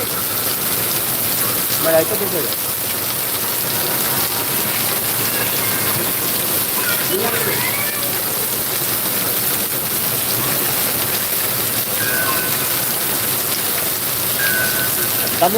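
Steady rain falls in a continuous, even hiss across the whole stretch, fairly close and unbroken, with a few faint incidental sounds scattered over it.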